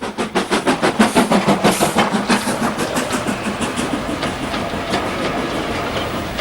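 A Stanier Black 5 steam locomotive works hard, its loud exhaust beats pulsing in a fast, even rhythm from start to finish with no voices.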